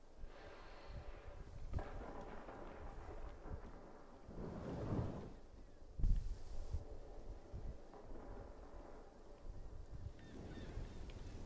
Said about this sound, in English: Storm is approaching.